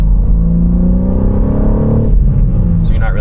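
A stock 2021 BMW M3 G80 with a manual gearbox, driven on the road: a steady engine drone rising in pitch, then a drop as it shifts gears, with speech over it.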